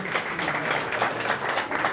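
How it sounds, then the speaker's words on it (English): Audience applause for a resident physiotherapist at a rehab centre's anniversary and residency night: a steady, dense wash of clapping that stays even and fairly close throughout the short burst. "give us a round of applause for Chang"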